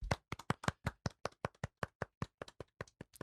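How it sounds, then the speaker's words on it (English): Hands clapping for a round of applause on a podcast, a small group of sharp, close claps in an uneven rhythm, about two dozen distinct slaps with no talking. "Let's do a round of applause."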